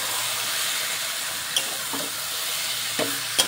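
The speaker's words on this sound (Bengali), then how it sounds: "এরপর আমি কড়াইতে দিয়ে দিচ্ছি, দিয়ে ভালো করে সব কিছু মশলার সঙ্গে আমি ভালো করে মিশিয়ে নেব।" Rice and lentils frying with spices in a hot wok for khichuri, a steady close sizzle and hiss throughout, broken by a few soft scraping knocks of stirring.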